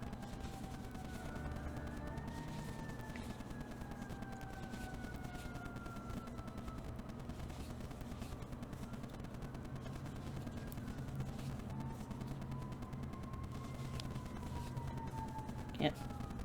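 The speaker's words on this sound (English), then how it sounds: "Ooh, fire truck." A fire truck siren wails up and down from a distance, sliding through long rising and falling tones over a low traffic rumble, with a short horn-like burst near the end.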